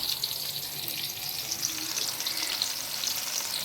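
Food sizzles steadily in a hot pan during sautéing, a continuous bright crackle with scattered pops, close and even throughout, with no talking.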